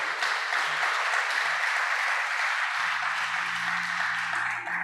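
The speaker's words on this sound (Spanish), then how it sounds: "le da palmas fuertes al Señor por esa enseñanza" Steady, loud applause from a church congregation, continuous throughout with a faint tonal hum underneath.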